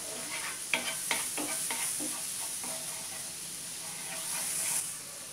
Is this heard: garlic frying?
yes